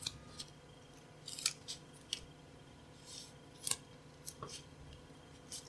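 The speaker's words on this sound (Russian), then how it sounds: "Закрепим ее с помощью скотча на вот такой планке." Adhesive tape pulled and torn to fix a hryvnia coin onto a wooden plank, a series of sharp crisp rips and crackles scattered over a quiet background.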